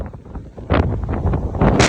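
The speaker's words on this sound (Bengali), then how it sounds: "এত জোরে হাওয়া হচ্ছে হাতে ফোন রাখা যাচ্ছে না" Strong wind buffets a handheld phone microphone at the edge of a field in light rain, producing loud, uneven rumbling gusts that surge and swell, growing heavier partway through.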